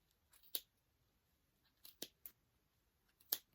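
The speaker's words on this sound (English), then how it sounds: "Just take little snips" Sharp scissors make a handful of quiet, crisp snips through knitting yarn, spaced irregularly with near silence between the cuts.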